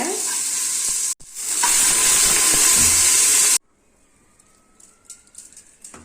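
Mutton dropped into hot oil with frying ginger and garlic, a loud burst of sizzling and hissing that cuts off abruptly into quiet kitchen clatter.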